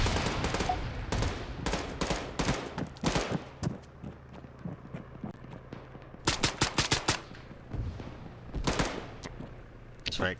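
Bursts of automatic fire from an M3A1 submachine gun chambered in .45 ACP in a video game, several rapid volleys spread across the stretch with gaps between, some loud and close, alongside other distant shots.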